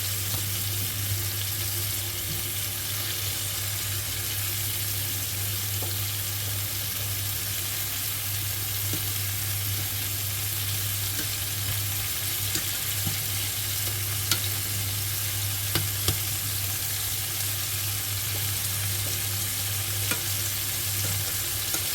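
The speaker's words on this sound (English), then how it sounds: "So I'm just browning the lamb first" Lamb chops brown in a frying pan, giving a steady, even sizzle and hiss that carries on throughout over a faint low hum, with an occasional soft stir or scrape.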